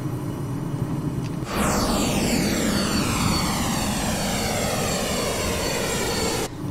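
Inside a Cessna Citation Mustang jet in Microsoft Flight Simulator, a loud, steady engine roar fills the cockpit, with a sweeping whoosh that swells and then holds level, with no talking.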